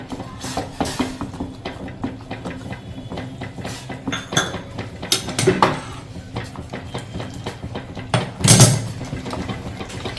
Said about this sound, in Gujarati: ખીચુનો લોટ એડ કરતું જવાનું છે અને હલાવતું જવાનું છે